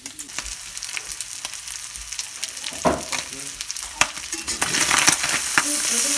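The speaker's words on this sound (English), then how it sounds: "And now we're frying it up, and we're gonna add some egg, fried egg on top." Food and an egg frying in bacon grease in a home kitchen, a steady close sizzle with scattered crackles and stirring clatter, growing louder toward the end.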